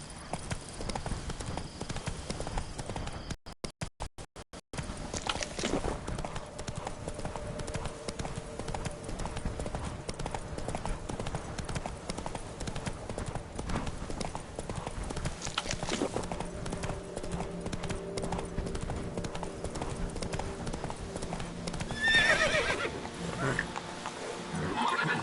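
Geralt's horse Roach from The Witcher 3: Blood and Wine gallops with rapid, steady clip-clopping hoofbeats throughout, with game ambience beneath and a voice speaking briefly.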